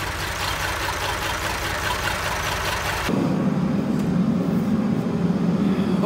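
A Massey Ferguson 1100 tractor idles after a cold start, a loud, steady rumbling engine that shifts to a deeper, throatier tone partway through, close by with no talking.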